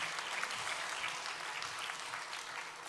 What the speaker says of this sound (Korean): 우리 뜨거운 박수 하겠습니다